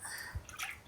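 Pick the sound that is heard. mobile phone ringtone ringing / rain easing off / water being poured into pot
water being poured into pot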